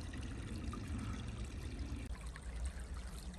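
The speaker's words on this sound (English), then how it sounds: "This is such a cool little creek." Water trickles and burbles through a small rocky creek with ledges in winter, a steady close babble with no talk over it.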